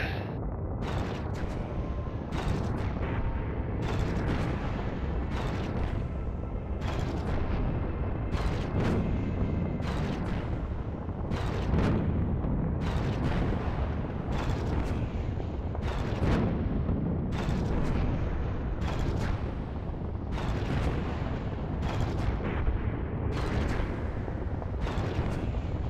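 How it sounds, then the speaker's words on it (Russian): Dense, continuous gunfire with repeated heavy booming blasts, loud and relentless throughout, like a sustained battle barrage; warning shots in the space strategy game Nexus: The Jupiter Incident. "Сделать предупредительный выстрел."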